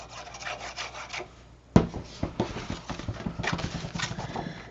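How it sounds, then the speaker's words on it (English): Paper is folded and burnished along a half-inch score line, making soft, close rubbing and scraping strokes, starting with a sharp crease snap and followed by a quick run of rhythmic burnishing rubs, with no talking. "I'm just going to fold and burnish on my 1/2 inch"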